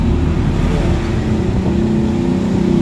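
The electric starter of a Yamaha YTX125 motorcycle spins close by with a steady, even mechanical whir that holds without a break for the whole short burst.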